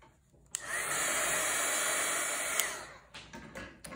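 A hair dryer blows over a freshly made painting, starting abruptly and running at a steady, loud whoosh for about two seconds before cutting off, followed by faint handling noises.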